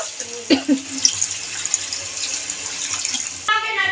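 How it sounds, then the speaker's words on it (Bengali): Water is poured into a pan of potato masala for matar paneer, a close splashing, trickling stream with a few louder splashes and a brief clatter. "এবার আমি পরিমাণ মতন জল দিয়ে দেবো"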